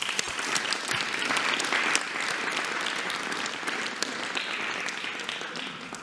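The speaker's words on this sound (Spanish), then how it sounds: "un aplauso para las maestras y los maestros" An audience at a Mexican presidential address on labor reform gives teachers a dense, steady round of applause lasting several seconds, with no talking.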